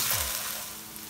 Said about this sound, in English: Saute it really well.